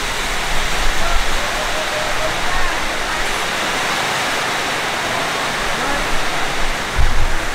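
Heavy tropical downpour in Krabi, Thailand during the off season, a dense, loud, unbroken roar of rain pouring over a restaurant, with faint indistinct voices beneath it.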